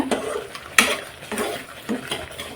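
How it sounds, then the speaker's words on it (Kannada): A thick mixture being stirred in a pan over a slow flame, with repeated scraping and clinking strokes of a spoon against the metal base at an uneven rhythm, close and clear with no talk. "ಇಷ್ಟು ತಿರುಗಿಸ್ತಾನೇ ಇರಬೇಕು ಕೈ ಬಿಟ್ಟರೆ ತಳ ಹಿಡ್ಕೊಂಡು ಬಿಡುತ್ತೆ"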